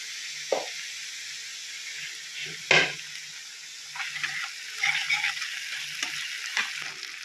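Fish and ginger garlic paste fry in oil with a soft, continuous sizzle, broken by several sharp spatula scrapes and stirs at close range, with no talking.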